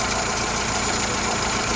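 A salvage car's engine idles in a steady, even rumble with no talk. Continuous and moderately loud at close range.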